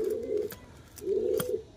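Pigeons in a bamboo cage give two soft, low cooing calls about a second apart, close by and fairly faint.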